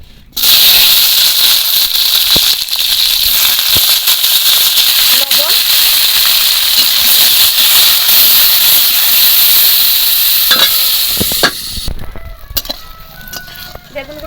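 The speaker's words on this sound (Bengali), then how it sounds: "তেল দিয়ে দিলাম আমি প্রথমে বেগুনগুলো হালকা করে একটু ভেজে নেব" Eggplant pieces frying in hot oil in a kadai, a loud, steady hissing sizzle that holds for about eleven seconds before easing off, with a few faint clinks near the end.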